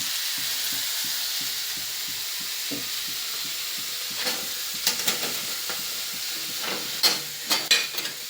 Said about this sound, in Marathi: आता कढईमध्ये कांदा ठेवलेला आहे आपण